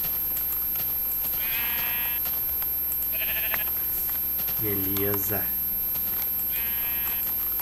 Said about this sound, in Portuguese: Vem, ovelha.